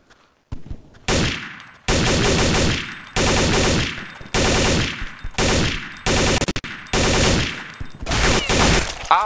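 Gunfire in the Counter-Strike Condition Zero video game comes as repeated loud bursts of automatic shots, about seven separate volleys broken by short pauses, close and harsh.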